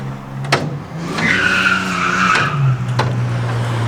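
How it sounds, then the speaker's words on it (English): A car drifting at a private-hire track session, tires skidding in a sustained squeal that rises and holds over a droning engine, with a few sharp transients along the way. "They've got one car they brought here to drift"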